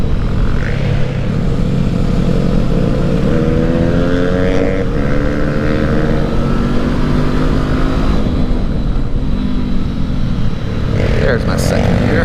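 A 2019 Honda CB500X motorcycle engine revs hard on twisty roads, its steady drone rising and falling with throttle changes. The whine holds loud and continuous throughout, with wind rush and occasional voice over it.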